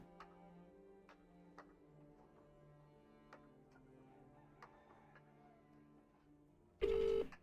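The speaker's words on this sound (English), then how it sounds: "I'm going to phone him up." Telephone call being placed: a short run of dial tones and faint ticking clicks over a low hum, then a sudden loud burst of ringing near the end.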